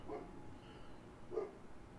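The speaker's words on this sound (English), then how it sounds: "The dogs are coming." Dogs bark in the Little Nightmares video game, two faint, distant barks about a second apart against a quiet backdrop.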